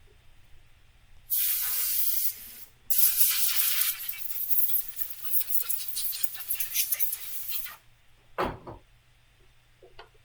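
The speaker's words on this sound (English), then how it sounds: "Let me rinse this here so you guys can see better." Water spray rinses a workpiece after a quarter-millimetre cutback, coming in two strong hissing bursts with a short gap, then tapering into quieter splashing and dripping, with a final brief spurt near the end.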